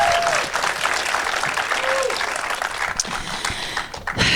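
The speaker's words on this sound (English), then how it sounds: "give him a round of applause" Studio audience at a comedy podcast taping breaks into sustained applause, dense clapping at a steady level throughout with some voices mixed in.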